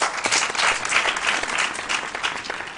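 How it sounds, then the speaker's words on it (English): Steady applause from a crowd, dense and sustained clapping at moderate loudness that carries on without pause. "A round of applause for Giovanna."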